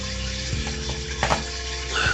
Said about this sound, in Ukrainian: Олія вже в нас починає кипіти і зараз будемо закидувати цибульку